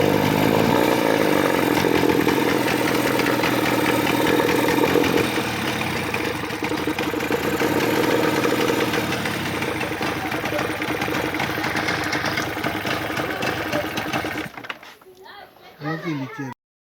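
An Enduro outboard boat motor, freshly repaired, runs steadily with a busy mechanical chatter that goes on for most of the stretch, then cuts out near the end. Voices and background activity are audible around it.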